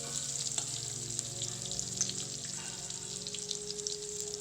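Stuffed bitter gourds cook in a shallow layer of hot oil seasoned with mustard and cumin, giving a quiet, even sizzle with faint scattered crackles, steady throughout and without speech.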